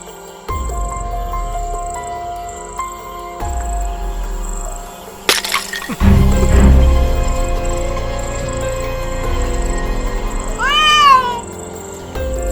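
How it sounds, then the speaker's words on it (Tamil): A cat meowing inside an old house, one rising and falling meow standing out near the end after a sudden crack and thud, with music playing throughout. "அது ஒரு பூனைடா."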